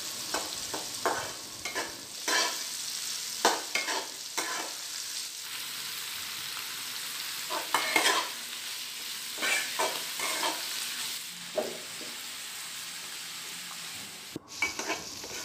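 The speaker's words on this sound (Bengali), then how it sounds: "সেজন্য পেঁয়াজ দিয়ে দিলাম।" Onions sizzle steadily in a hot pan on a stovetop, ready for braising pangas fish into a curry, with repeated scraping stirs cutting through the constant frying hiss; close and fairly loud, no voices.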